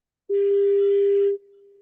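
A loud, steady telephone ringback tone holds for about a second, then drops to a softer continuous tone as a call fails to connect, with no voices.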